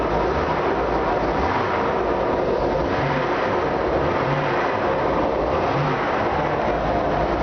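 A motor runs loud and steady at idle, a continuous low rumble with slight rhythmic pulsing and no pauses, heard close up throughout.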